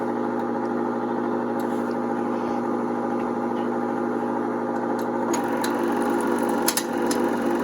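A 1960s 8mm film projector with its motor switched on, a steady mechanical whirring hum with a faint regular clatter as the film feeds through, and light clicks toward the end.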